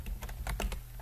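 Several quick, close keystrokes on a computer keyboard as a line of C++ code is typed, a brief clattering burst over a low steady hum.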